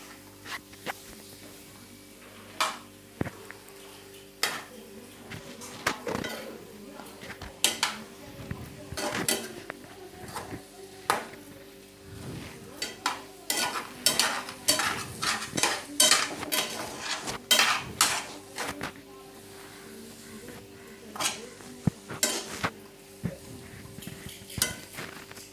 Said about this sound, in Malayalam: ഇനി നമുക്കിതിലേക്കിട്ട് നമുക്ക് റോസ്റ്റ് ചെയ്തെടുക്കാം. ഒന്ന് ഇളക്കി മിക്സ് ചെയ്തെടുക്കാം.